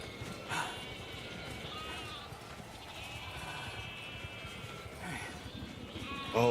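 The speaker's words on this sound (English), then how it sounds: "Let's follow the sheep." Sheep in the video game The Alters bleat repeatedly at moderate distance, several overlapping calls with soft hoof clatter beneath, under a low ambient game background.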